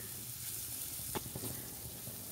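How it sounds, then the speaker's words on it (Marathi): Onion and ginger-garlic paste sauté in a pan with a continuous hissing sizzle, broken by a couple of brief stirring clicks, and nobody talking. "कांदा परतून, आलं लसूण पेस्ट आपण परतून घेऊया।"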